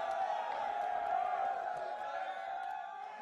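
A large arena crowd at an esports world championship cheers and roars in a sustained, distant wash of voices.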